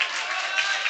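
Emporia High School fans cheering during a basketball game against Wichita Collegiate, a dense, loud crowd roar with whistling and shouts in a gym, continuous throughout the short moment.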